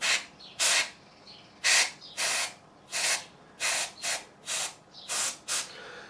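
Short bursts of compressed air blow dust off a Harley Benton 35 Plus guitar fingerboard after 400-grit sanding and polishing, about ten sharp close hissing blasts in an uneven rhythm with brief quiet gaps.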